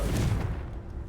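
A Confringo fire spell blast in Hogwarts Legacy, a game: a brief, muffled booming burst that swells at once and then decays into a soft low rumble, heard alone.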